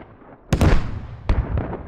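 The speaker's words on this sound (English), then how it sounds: "AT misses, or anti-tank guided missile once again misses." Anti-tank guided missile exploding in the military shooter Squad during a competitive match: two sharp, loud blasts roughly a second apart with rumbling tails, heard close with no talk.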